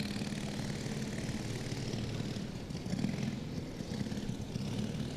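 Twin Triumph-engined double-engine drag racing motorcycle called Hurricane at a Dragstalgia drag meet, a loud, steady, unbroken engine roar with a slight swell midway and no talking.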